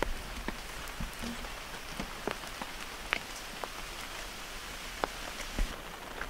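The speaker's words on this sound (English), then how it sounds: "It's been so nice and relaxing to wake up slowly to the sound of this rain" Steady rain falls outdoors near a hot-springs homestay in Moshi, a continuous wash of patter with scattered louder drips and splashes, fairly quiet and with no voices.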